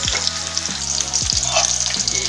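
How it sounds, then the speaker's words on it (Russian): Meat cutlets sizzle loudly in a frying pan as they are turned, a dense crackling hiss with a few scraping stirs of the spatula, close up and without talk. "Переворачиваем котлетки, чтобы не подгорало."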